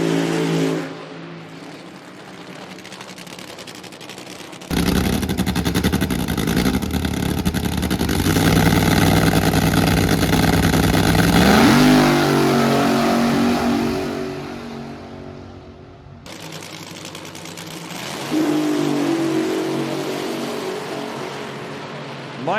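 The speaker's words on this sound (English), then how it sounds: "you could hear the RPMs rev up before the tree come on" A drag race car engine revving hard at the start line, a loud, close, sustained roar that climbs and holds, drops away abruptly and then returns, with no voices over it.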